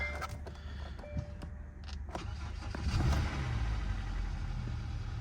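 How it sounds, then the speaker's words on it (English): A Hyundai engine cranks and catches at an auction inspection, with a few clicks and chimes around the start, then settles into a steady low idle that grows slightly louder and holds. "Started right up. Engine feels very smooth."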